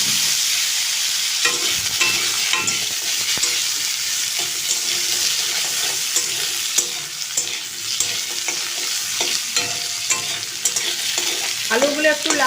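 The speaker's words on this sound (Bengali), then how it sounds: "আলুগুলো একটু লাল লাল করে ভেজে নেব" Small-cut potato pieces fry in mustard oil with five-spice tempering and chilli for a jackfruit prawn dish, a steady loud sizzle with repeated scraping stirs and clinks throughout, no voices.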